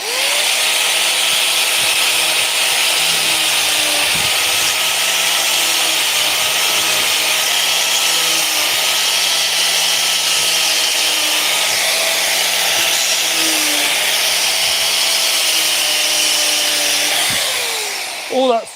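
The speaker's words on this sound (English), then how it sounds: "I'm just going to grind these points of screws off" Angle grinder grinding the protruding points off screws, a loud sustained high whine running steadily for about seventeen seconds before cutting off, with no talking over it.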